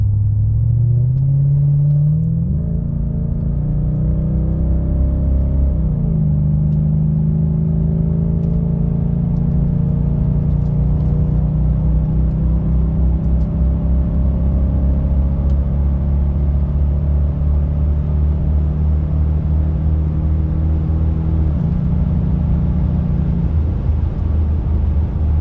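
A Lexus LS400 fitted with a Trans-Go shift kit, heard from inside the cabin as a steady engine rumble rises and falls through gear changes, with a few distinct shift points, loud and continuous with no talk.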